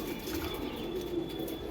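Pigeons kept in separate coop compartments give low, rolling coos in a steady murmur, close and fairly quiet, with no voices over them.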